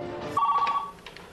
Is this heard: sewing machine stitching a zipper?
no